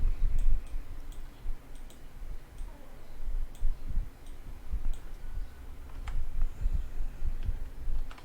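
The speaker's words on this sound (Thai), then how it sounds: "แล้วก็คลิกวางนะครับ คลิกขวาวาง" Computer mouse clicks while pasting and arranging images in PowerPoint, a series of faint, sharp clicks spaced irregularly over a low room hum.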